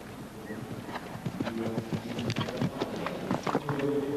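Show jumping at Spruce Meadows: a horse's hooves clip-clop in a quick, galloping rhythm on turf, moderately close, with a murmuring crowd and commentary-like voices underneath.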